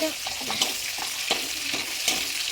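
Food sizzles steadily in a scorched kadai for a prawn malai curry, with a soft constant frying hiss and regular scraping stirs. No one talks.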